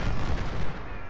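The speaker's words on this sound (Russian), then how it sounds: "Пушки долбят еще." Artillery cannons firing in the Civil War strategy game Ultimate General: Civil War, a close heavy boom with rumbling decay over about a second.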